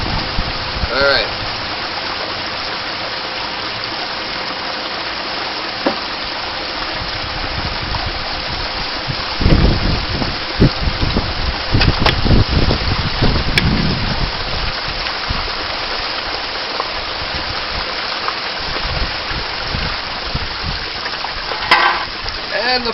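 Water rushes out of a prospecting test hole and floods toward a garage, a steady loud hiss and splash throughout with heavier surging bursts midway and rougher rumbling close by.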